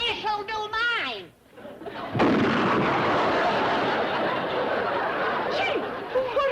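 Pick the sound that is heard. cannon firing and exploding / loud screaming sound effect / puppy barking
cannon firing and exploding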